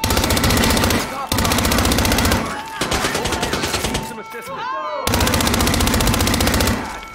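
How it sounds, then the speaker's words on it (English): Automatic and single-shot gunfire in the video game Hitman 2, loud bursts of rapid fire in several stretches with brief pauses between, with game dialogue spoken over it. "Gunfire."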